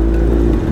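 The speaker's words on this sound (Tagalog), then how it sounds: "Hindi natin nagagamit yung motor natin, kailangan natin painitin." A Suzuki GSX-S1000 motorcycle engine idles while warming up after months unused, a steady, loud, low rumble without change in pitch and no speech.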